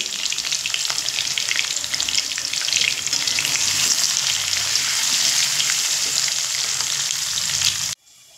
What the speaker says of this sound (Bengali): দেখুন আলু তো ভাজা হচ্ছে